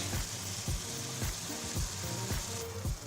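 Garlic and pork sizzle steadily in a pan over low heat, a continuous close frying hiss with small irregular pops and soft clicks running through the whole stretch.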